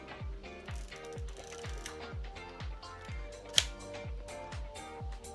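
Ratcheting clicks and gear whirs from a junk single-lens reflex film camera as its frame advance lever is cranked and the shutter mechanism worked, a steady run of close mechanical ticks with one sharper snap near the end.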